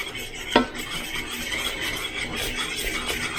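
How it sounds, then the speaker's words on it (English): Mustard sauce being stirred in a pan on a low simmer, a utensil scraping and clinking against the pan with a sharp knock early on, over a steady background hiss. "I'm going to stir it up really good"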